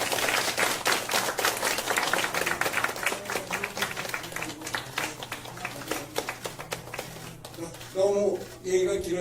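Audience applause at a Korean political rally endorsing a presidential candidate: dense, sustained clapping from a crowd, steady for about eight seconds before thinning out, with a voice speaking near the end.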